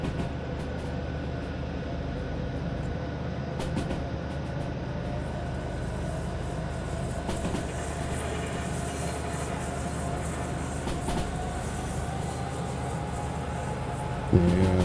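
Train in the game Derail Valley rolling through a curve, a steady loud rumble of wheels on rail with thin, rising tonal squeals from the flanges running faintly through it.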